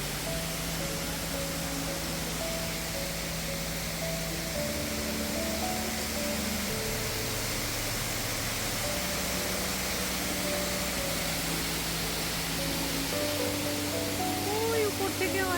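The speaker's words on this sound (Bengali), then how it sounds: "ওই উপর থেকেও আসছে একটা জলের ধারা" Kynrem Falls, a waterfall in Meghalaya, roars as a steady, dense wash of falling water, continuous and loud throughout with a low tonal hum beneath it.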